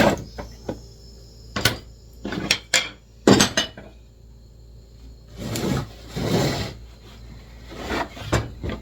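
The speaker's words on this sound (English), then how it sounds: "me flipping over these frames and nailing the bottom pieces on" Wooden frames being flipped over and nailed during frame assembly: sharp, irregular knocks and clattering bangs spaced across the span, some loud and close, with scraping handling noise between, no talk.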